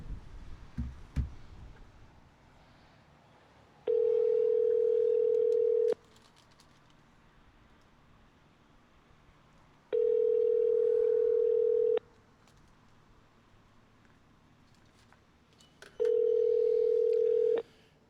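A telephone line rings during a call with three long, even electronic tones spaced several seconds apart, separated by quiet line hiss.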